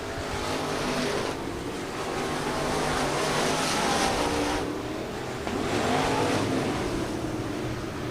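Dwarf cars racing at Kennedale Speedway Park, engines roaring loudly in a broad continuous wash that swells and fades as the pack passes by, with a brief dip before the next surge.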